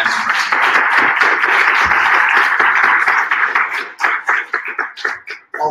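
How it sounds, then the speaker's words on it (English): A round of applause at an evening health presentation in Spartanburg, dense and steady through the room before breaking into scattered, thinning claps near the end. "we'll give a round of applause to our speaker, Sebastian."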